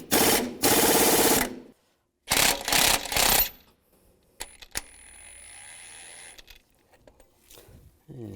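An impact gun rattles on a bolt on a 2002-2009 Chevy Trailblazer during timing chain work, in two loud bursts of hammering, the second broken into short pulses, followed by quieter clinks and shop noise.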